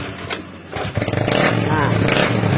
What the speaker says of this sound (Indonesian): ini harus diengkol guys